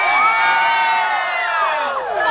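A crowd screams and cheers in a sustained, loud wash of high-pitched shrieks and whoops, many voices overlapping close by without a break.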